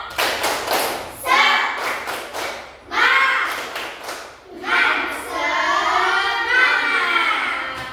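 Students clap out a patterned 'tepuk semangat' chant in a classroom lesson: sharp repeated claps in grouped rhythmic bursts, interleaved with chanting voices, close-up.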